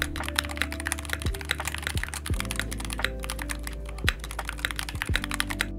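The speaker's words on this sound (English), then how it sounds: "With this keyboard, there are 2 switch options, Gateron Magnetic White and Jade." Keys clatter with steady, close typing on a hot-swappable magnetic keyboard fitted with Gateron Magnetic White switches, each keystroke a crisp clack with occasional deeper thocks.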